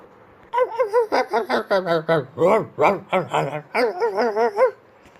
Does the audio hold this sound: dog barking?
yes